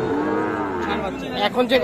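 Cattle moo at a cattle market, a single loud, drawn-out low call close by that ends in a rougher rise.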